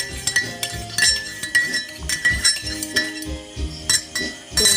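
A spoon stirs an oregano and ginger remedy in a pot, giving repeated metallic clinks and scrapes in an uneven rhythm, loud and close, with no voices.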